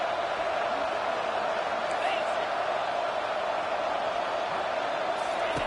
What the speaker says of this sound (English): And this crowd is losing it, frenzied after the back-to-back sacks.